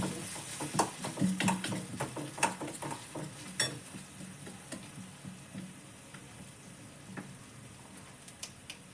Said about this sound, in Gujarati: તો આ ટામેટાને તેલની અંદર મેં ફ્રાય કરી લીધા છે